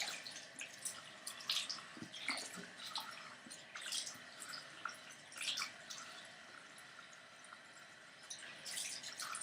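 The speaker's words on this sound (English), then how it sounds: "Now I rinse." Cool water runs from a tap while hands and a septum piercing's jewelry are rinsed of soap, a quiet close trickle with irregular drips and splashes, no talk.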